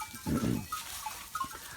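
A sheep on a hilltop in a Turkish village gives a single short bleat, faint and somewhat distant, against open outdoor air with soft rustling.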